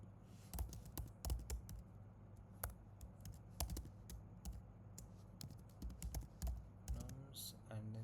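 Code is being typed on a computer keyboard in a near, steady patter of key clicks, with irregular bursts and brief pauses, and a voice speaks toward the end.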